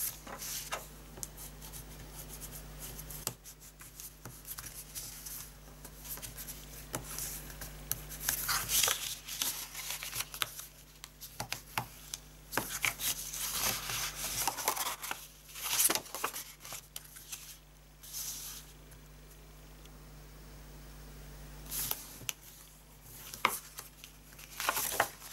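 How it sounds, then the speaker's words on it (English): Paper for a gift bag being folded and burnished by hand: soft rustles, crinkles and rubbing swipes come in irregular bursts over a quiet room, close and fairly faint, with no speech. "And now we're going to do some folding and burnishing."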